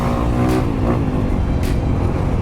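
A Honda CRF250RX dirt bike engine revs hard and loud up close during a wheelie, a dense steady roar with a couple of brief rises in pitch.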